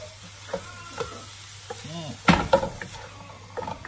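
Rice stir-fried with egg and minced meat in a pan, a moderate sizzle with scraping and tossing clatters, louder bursts midway, and a brief voice in the background.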